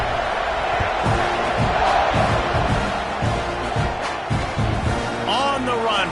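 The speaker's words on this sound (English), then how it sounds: "You think this crowd's going to get loud when their defense comes on the field?" Football stadium crowd roaring as the home defense takes the field in the fourth quarter, a loud sustained wash of cheering and shouting with rhythmic chanting bursts and a commentator talking over it.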